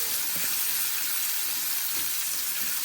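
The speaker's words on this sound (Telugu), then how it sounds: "జస్ట్ ఒక 2 మినిట్స్ వేయించుకుంటే చాలు ఆనియన్స్." Onions frying in a pan for a cluster bean stir-fry, a steady close sizzle that crackles continuously with no pauses and no voices.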